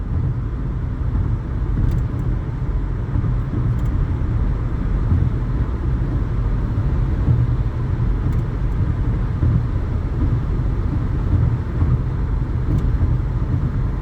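A car cruises with the driver off the gas, giving a steady low road rumble and engine drone inside the cabin that stays even and unbroken throughout.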